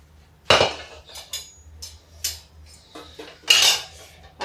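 Metal kadhai of hot frying oil being shifted off the stove, a few sharp clanks and scrapes of metal cookware, close and intermittent with quiet gaps between.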